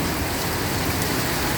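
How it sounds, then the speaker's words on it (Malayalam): Heavy rain mixed with hail pours down in Abha, Saudi Arabia, making a dense, loud, unbroken roar of drops pattering on surfaces nearby, with no voices. "അത് ആലിപ്പഴം പെയ്യുകയാണ്."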